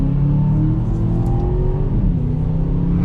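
Aston Martin DBX SUV engine accelerating from inside the cabin, a loud, smooth rising growl that climbs in pitch and then eases, continuous and close with no talking.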